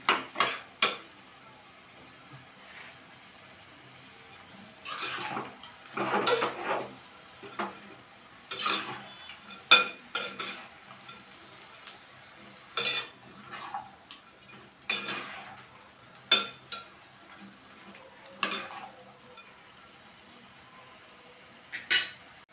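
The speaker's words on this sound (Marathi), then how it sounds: "चांगली भाजी अशी परतून घ्यायची." Ash gourd and peanuts are stir-fried for a traditional Maharashtrian bhogichi bhaji, heard as irregular clinks and scrapes of a spoon against the pan over a faint sizzle.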